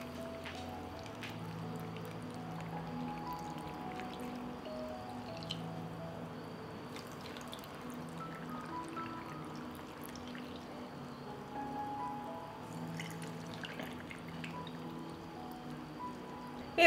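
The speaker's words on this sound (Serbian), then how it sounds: "I na kraju ću napuniti tegle sa vodom." Water is poured into glass jars already holding lemon juice and sugar, ready to be sealed for canning: a faint, continuous trickle and splash that runs quietly for the whole stretch, with no voices.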